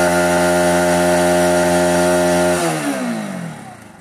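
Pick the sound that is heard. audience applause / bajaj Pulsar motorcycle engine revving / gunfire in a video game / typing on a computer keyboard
bajaj Pulsar motorcycle engine revving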